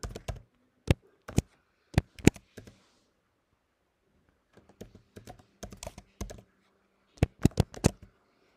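Keystrokes on a computer keyboard come in short bursts of crisp, close taps separated by pauses, with no talk.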